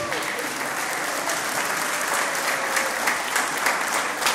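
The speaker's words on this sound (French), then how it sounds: "vous allez vous lever, on va vous applaudir." A large crowd claps steadily and loudly throughout, with a faint sustained musical tone beneath the applause.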